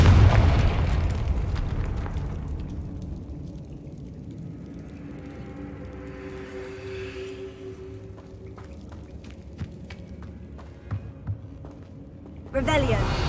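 Hogwarts Legacy spell explosions open with a heavy booming blast that fades into a long low rumble, then a few faint pops and crackles before another burst at the end, mixed with a player's voice.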